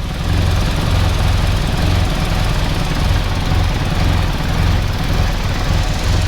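A Jet Motors powered 1310 engine runs on its first start, a loud, steady low rumble with an uneven, hunting pulse throughout.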